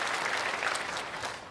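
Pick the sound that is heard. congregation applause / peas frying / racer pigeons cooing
congregation applause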